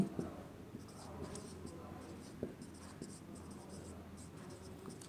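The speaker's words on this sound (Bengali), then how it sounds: "এবার আমি একটু লিখি" A pen or marker writes by hand during a maths lesson on area, producing faint, soft scratching strokes that come and go over low background hiss.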